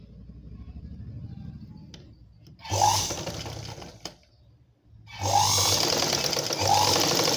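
Sewing machine stitching blouse fabric pieces together in short bursts: a quiet whir, a pause with a click, then two loud runs of rapid mechanical stitching.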